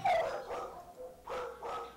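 Dogs bark at an animal shelter in a few loud, close yaps, one burst at the start and two more near the end, with no talking.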